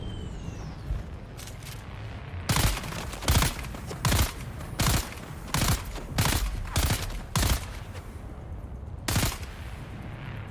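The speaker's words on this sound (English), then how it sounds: "That is gunfire." Bursts of gunfire in the survival game Dune: Awakening, a string of sharp, loud volleys in quick succession with a final separate burst, over steady background ambience.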